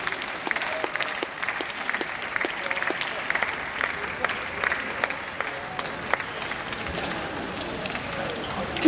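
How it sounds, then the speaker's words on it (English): Spectators at an athletics 3000 m championship race applaud the runners with dense, continuous clapping spread across a crowd, some individual claps standing out, steady in level throughout. "Give them a clap, terrific start."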